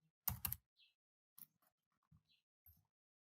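Keys clack on a computer keyboard in a quick cluster of close, crisp taps, followed by a few sparse single keystrokes in an otherwise quiet room.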